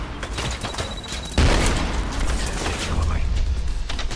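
A grenade explodes in Trepang2 with a sudden loud blast partway through, followed by a dense rumbling roar and crackling debris. Quieter scattered impacts precede it.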